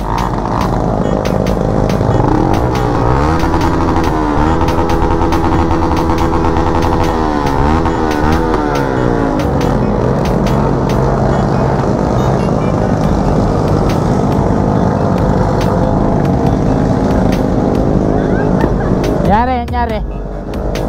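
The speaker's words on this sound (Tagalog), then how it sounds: "nag-iingay yung mga motor natin, oh." Motorcycles with loud aftermarket exhausts rev repeatedly at a New Year's celebration, close and very loud, with rising and falling engine sweeps and sharp popping bursts over a constant rumble, and voices and crowd noise mixed underneath.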